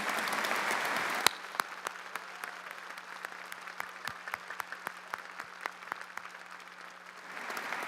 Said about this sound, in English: Can we have a big round of applause again for them?